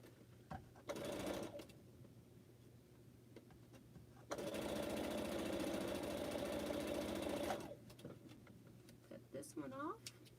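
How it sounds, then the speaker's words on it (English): A sewing machine stitches green strips onto quilt pineapple blocks, first in a short burst and then in a longer, steady run of rapid needle strokes, with quieter handling noises and brief talk between the runs. "And sew greens."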